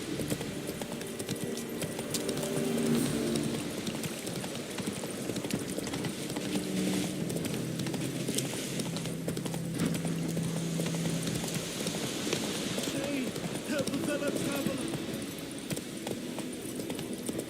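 A horse in the video game The Witcher 3 gallops with steady, rhythmic hoof clip-clops that run throughout at moderate loudness, set against faint background game ambience.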